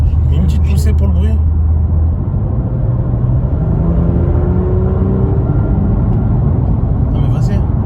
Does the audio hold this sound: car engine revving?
yes